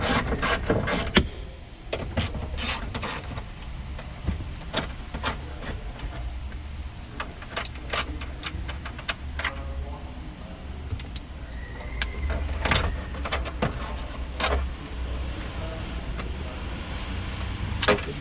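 A car stereo is worked loose and pulled from the dashboard of a Dodge Durango, giving a steady run of close plastic clicks, ticks and scraping knocks over about eighteen seconds, with no talking.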